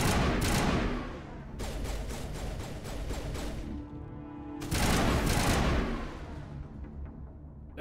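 Bursts of rapid gunfire in the sci-fi shooter Mass Effect, loud volleys of crackling shots in two main clusters with a brief lull between, ending in quieter scattered reports.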